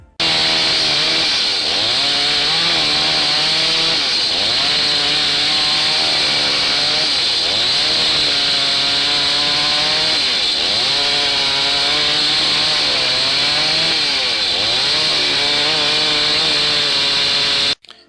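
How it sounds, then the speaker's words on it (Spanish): An electric chainsaw cuts firewood at a quarry in Vijes, Valle del Cauca, in a loud, continuous close-up buzz whose pitch dips and recovers as the chain bites into the wood, running unbroken for the whole stretch. "Por tal razón, se usa sierras eléctricas."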